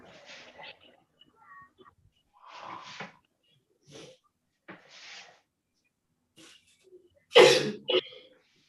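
A single sharp, loud sneeze bursts out near the end after a stretch of quiet talk and shuffling, followed by a brief softer sound.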